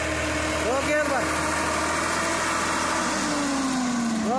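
A 32 hp ACE DI 854 tractor engine idles steadily with a low, constant rumble, while voices talk over it throughout.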